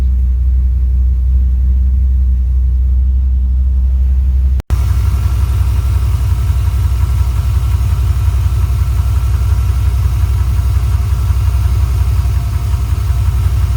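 A car engine idles with a steady, low rumble after an alternator replacement; a sharp click breaks in briefly near the five-second mark, and the hum grows slightly fuller and louder after it.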